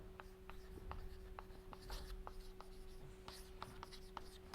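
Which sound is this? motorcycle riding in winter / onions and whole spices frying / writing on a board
writing on a board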